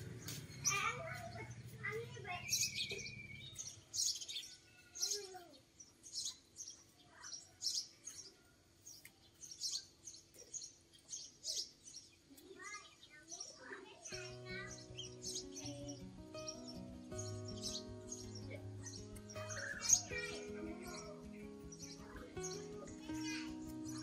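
Young seven-colored sunbirds, not yet in adult plumage, chirp inside a bird shop: scattered short, bright tweets run throughout over steady background sound and people talking.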